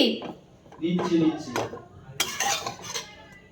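Metal plates clink and scrape as rice is served, a few short bright clatters in a home kitchen with people talking over them.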